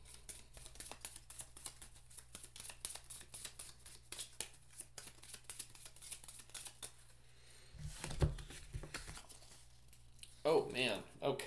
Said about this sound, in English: This time I got to shuffle though.